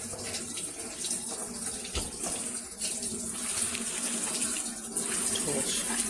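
Water rushes steadily into a Whirlpool top-load washing machine as it fills, a continuous hiss with faint clatter on top, heard on a machine with an inlet valve problem.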